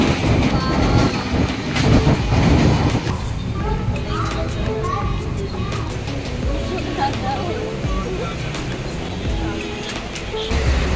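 Passenger train running, heard from inside the carriage: a steady rumbling roar with rattling and rhythmic clicks of the wheels throughout, with faint voices mixed in.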